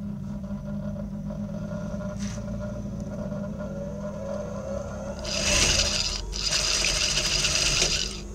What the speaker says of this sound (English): I'm going to be placing front side facing together and I sew it